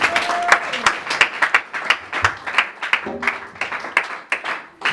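A church congregation claps in distinct, uneven bursts that thin out toward the end, with a voice briefly calling out between the claps.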